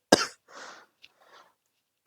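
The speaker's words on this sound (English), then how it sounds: "Izuku just starts coughing" A person coughs in short bursts: a sharp first cough, then a softer rasp, a tiny click, a faint throat-clearing sound, and another sharp cough starting at the end, all close and isolated against silence.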